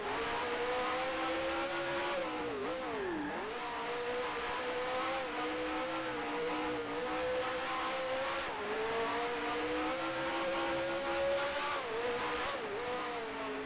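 Racing car engine in the Grand Prix Legends driving game, a steady loud drone with rising and falling pitch as it revs, briefly dipping on a downshift around a corner, alone without talk.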